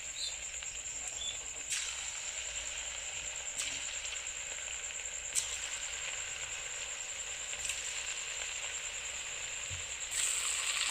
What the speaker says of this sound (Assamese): এতিয়া মই গেছটো জ্বলাই মানে কেৰাহীটোত তেল গৰম দিছোঁ আৰু এইখিনি মই এতিয়া গোটেইখিনি ভাজি ল'ম।